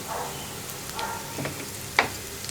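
Chopped onions with turmeric powder are stirred over a low flame, giving a soft, quiet sizzle with light scraping and one sharper clink near the end.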